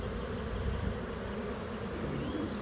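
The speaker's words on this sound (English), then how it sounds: "Look at the bee." A swarm of honey bees fills the air with a steady, dense buzz that holds at an even level throughout, with no voices over it.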